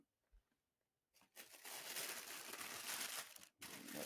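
Paper crinkles and rustles close by inside a boot box, starting after a quiet moment and continuing loudly for several seconds with a brief pause.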